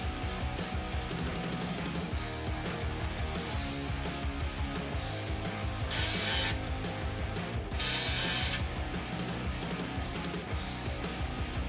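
A power driver screws suspended garage storage platforms into the walls, with several short, loud bursts of whirring spaced a few seconds apart over a continuous backing of music and workshop noise.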